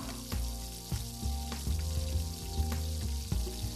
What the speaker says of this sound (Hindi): अभी ये मसाला जो है अभी इसके साथ जो है टमाटर डाल रहा हूँ